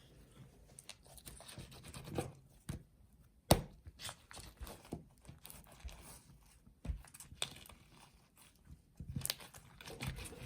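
Soft, squelchy clicks and crackles as slime is rolled and squished, irregular and close, fairly quiet with scattered sharper pops.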